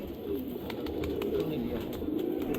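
Old pigeons kept by a pigeon fancier in Malihabad coo softly in a low continuous murmur, with a faint steady background hum throughout.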